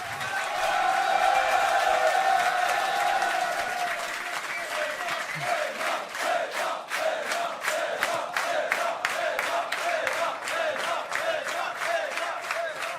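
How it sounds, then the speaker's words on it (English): A crowd at a StarCraft 2 esports event applauds and cheers for the player Reynor, with sustained loud clapping that settles into a steady, rhythmic clap near the end. "Big round of applause."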